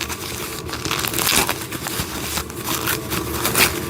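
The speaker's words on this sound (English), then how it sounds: "Let's unwrap this." Packaging being unwrapped from wooden train table pieces: close, steady crinkling and tearing of plastic and paper, continuous with a few louder rustling bursts, no talking.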